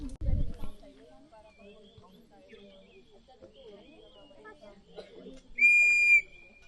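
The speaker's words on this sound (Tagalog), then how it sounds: "basta may pito" A single sharp whistle blast rings out for about half a second near the end on a Mount Ulap hiking trail, following quiet talking and faint ambient chirps.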